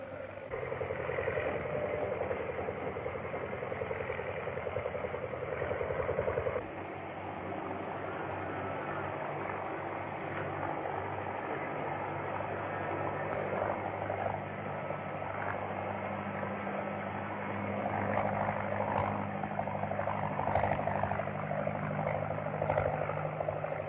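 A 1930s propeller plane engine drones steadily throughout, a continuous buzzing hum at moderate distance with slight swells in loudness and no talk.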